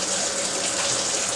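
Tap water runs steadily and close up as raw chicken breasts are rinsed under a kitchen faucet, a continuous loud gushing hiss with no talking.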